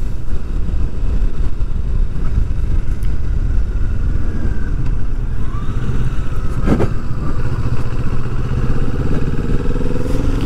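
A 2020 Kawasaki Vulcan S 649cc mid-range cruiser motorcycle rides at steady speed, its engine a loud, continuous drone mixed with wind rush, pitch shifting slightly as it changes speed.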